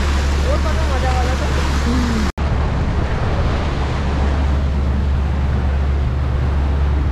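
A boat cruises over the sea off Musandam, Oman, with a loud, steady rush of wind and water throughout, one brief dropout, and faint voices early on.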